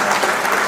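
Brief, dense burst of audience clapping at a Hindi comedy poetry gathering in Dubai, loud and even, with no voices above it.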